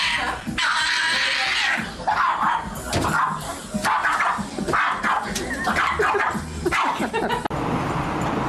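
A pet dog barks and yips in a string of sharp, close bursts with some whimpering between them, fairly loud, while people talk in the background.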